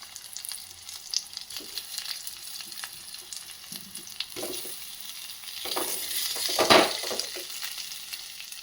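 Potatoes frying in a pan with chillies: a steady, moderately loud sizzle with occasional stirring scrapes, swelling near the end as the pieces settle in the hot oil, with no talking.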